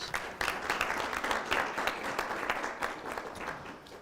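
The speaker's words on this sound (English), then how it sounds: "let's give these students a round of applause" An audience at a county board of education meeting applauds students, a steady, fairly dense round of clapping that runs throughout without talk.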